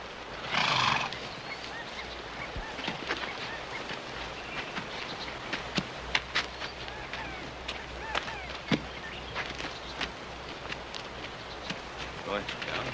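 Horses in a 1965 Western television episode whinny loudly near the start, then hooves and harness clatter softly under scattered voices in an outdoor scene.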